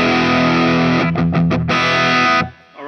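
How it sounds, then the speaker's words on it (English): Distorted electric guitar through a Line 6 Helix Marshall-type amp preset with reverb: a loud sustained chord breaks into a few choppy stabs, rings on again, then cuts off, leaving a short spacious reverb tail. "that's a nice reverb. Gives it just that sense of space"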